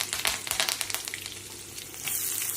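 Mustard seeds, cumin and curry leaves spluttering and frying in hot oil for cabbage egg masala, with dense crackling sizzle and sharp pops in the first half, settling into a steady hiss, close and alone.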